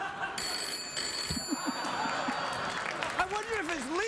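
An old-style telephone bell rings steadily through the opening seconds on a late-night television comedy sketch, sounding under ongoing talk and audience noise.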